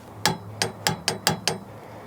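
A torque wrench tightens a truck hitch bolt to 60 foot-pounds, giving six sharp, close metallic clicks in a quick, slightly uneven series, with nothing else heard.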